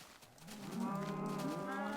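Cows mooing in the Minecraft video game, one long drawn-out moo that swells and holds steady, loud and close with no talking over it.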